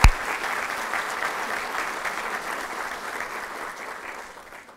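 Sustained applause from a ceremony audience at a hospital's solemn session, many hands clapping together in a hall, starting abruptly and loud, then holding a steady roar before gradually fading.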